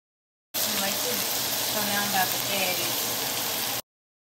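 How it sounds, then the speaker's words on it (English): Vegetables hit a pan already used for salmon, giving a steady, close hiss and sizzle for about three seconds, with a voice faintly audible beneath. "I'm putting up my vegetables in the same pan."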